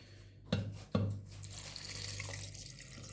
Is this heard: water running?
yes